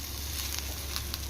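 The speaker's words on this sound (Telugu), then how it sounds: "ఇప్పుడు నేను ఈ కట్ చేసుకున్న కాకరకాయల్ని ఇందులో వేసుకుందాం. ఇందులో వేసుకొని ఇది కొంచెం ఫ్రై చేసుకొని" Cut bitter gourd fries with onions in a pan, producing a brief, steady sizzle with a few light crackles, close and moderately loud with no voices.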